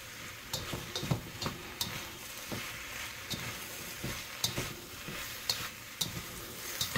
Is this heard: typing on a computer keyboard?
no